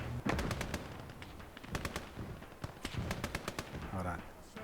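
Machine gun fire during an aircraft strafing run in a World War II real-time strategy game set in the Battle of Moscow, sharp clustered rapid bursts near and loud, with a voice talking over part of it.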